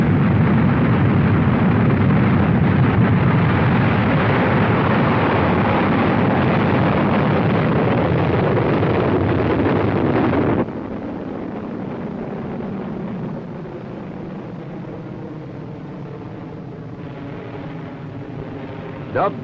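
A Titan rocket fitted with two large solid-propellant strap-on boosters thunders at liftoff, a loud, continuous roar that cuts off abruptly partway through and leaves a quieter, rumbling tail.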